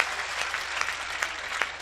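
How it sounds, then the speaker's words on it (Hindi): Applause from a poetry-event audience after the host asks for a warm welcome, a steady wash of many hands clapping with a few sharper claps standing out, filling the moment without any talk. "मेरे स्वागत में दोबारा जोरदार तालियां बजाएं"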